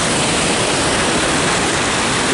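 Kakabeka Falls in Ontario pours a large volume of water, a loud, steady, close roar of rushing whitewater that fills the whole clip without a break.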